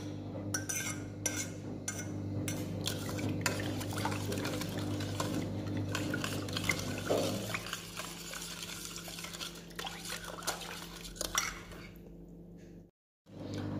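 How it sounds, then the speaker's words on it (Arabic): Water poured into sugar in a pot, then stirred; a steady scraping and sloshing with clinks of a utensil against metal, continuous and close, ending in a brief silence. "ونزيد الماء"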